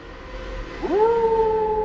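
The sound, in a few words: loud dog howl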